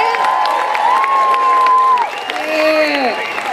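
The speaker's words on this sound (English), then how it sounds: "How about a little round of, well, big round of applause for the kids in the choir as well here." An outdoor carols audience applauds and cheers for a children's choir, a steady wash of clapping under loud whoops and shouted cheers that rise and fall.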